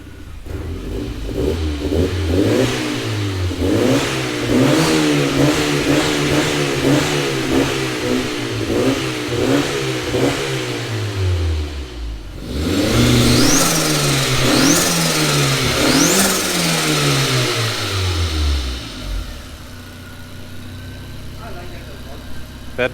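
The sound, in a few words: car engine revving after 1.8T 20v engine swap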